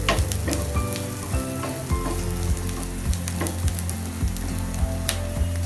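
Onions sauté with chunks of elephant foot yam in a pan, crackling and sizzling loudly up close while a utensil scrapes and knocks against the metal in an irregular rhythm, with no speech.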